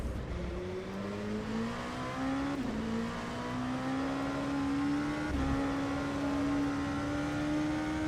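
Race car engine in the rFactor 2 racing game, with the Corvette C8.R, Cadillac DPi-V.R and Ligier JS P217 on track, holds a steady sustained drone that rises gradually through gear changes, with no talk over it.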